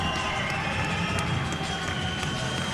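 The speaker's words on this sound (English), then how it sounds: "You can hear this crowd is going nuts for Kenny." A crowd at Beast Championship 8, a combat-sports event, roars and cheers steadily for fighter Kenny 'The Pitbull', a dense, continuous wash of noise that fills the whole moment.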